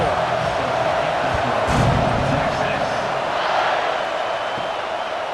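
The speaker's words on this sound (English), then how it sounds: "a cavalcade of dancing lights trying to hype this crowd into a frenzy" Stadium crowd in EA Sports College Football 26, a dense, steady roar of cheering that swells briefly, with an announcer talking over it.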